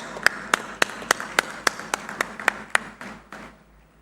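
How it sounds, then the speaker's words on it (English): Audience applause at a groundbreaking ceremony for the Google Cloud India AI Hub, heard as a steady run of sharp, evenly spaced claps over a soft crowd wash, fading out toward the end. "A huge round of applause, ladies and gentlemen."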